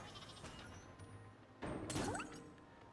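Sheep bleat in the video game Flockers, a clear bleat sounding over a busy game soundscape, followed by a crash-like burst.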